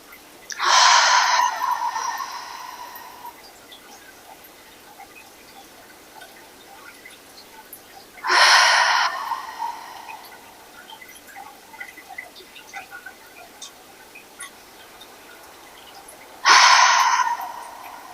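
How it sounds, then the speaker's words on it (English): Slow yoga breathwork, in through the nose and out through the mouth, with three loud, close breaths spaced several seconds apart over quiet room tone. "Breathe in through the nostrils and out through the mouth."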